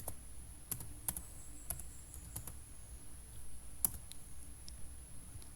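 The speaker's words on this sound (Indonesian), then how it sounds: "Selanjutnya di bawahnya kita ketik metode." Someone types on a computer keyboard while entering a variable in statistics software for a Mann-Whitney U test, producing sparse, quiet, crisp key clicks in a short irregular run in a quiet room with no speech.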